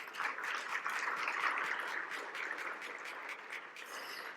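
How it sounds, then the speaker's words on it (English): A hall audience applauds at a leadership awards presentation, a steady wash of many hands clapping at a fairly distant, low level for several seconds without a break. "Another round of applause, everyone."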